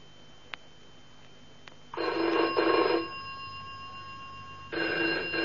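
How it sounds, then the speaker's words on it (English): A telephone rings in a radio drama set in a flat, giving two bursts of loud, steady ringing with a pause between them, heard alone with no voices over it. "All right, Mark, I'll answer it."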